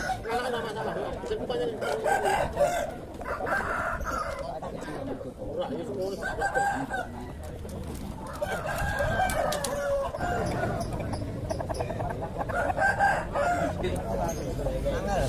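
Chickens cluck and roosters crow repeatedly amid a busy, noisy crowd with people chattering throughout, at a traditional poultry market in Kediri, Indonesia.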